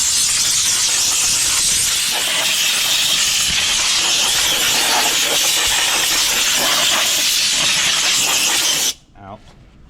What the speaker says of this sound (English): I'm going to take my air hose and I'm just going to blow out this engine area